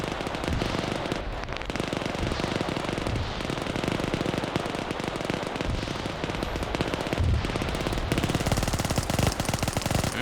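The Hopper unit in a StarCraft game fires downward in a continuous rapid barrage of gunfire and popping blasts, dense and steady for the whole stretch.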